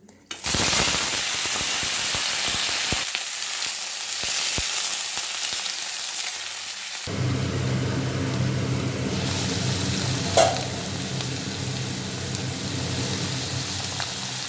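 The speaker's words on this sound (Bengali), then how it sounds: "কালো জিরে শুকনো লঙ্কা ফোড়ন দিয়ে দেখো কাঁচা টমেটো" Nigella seeds and dried red chilies hit hot oil in a pan, bursting into a loud, steady sizzle and crackle that continues for the whole stretch, with a few sharp pops early on.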